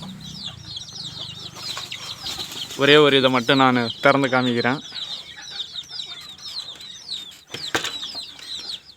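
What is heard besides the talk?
mother hen and chicks clucking in coop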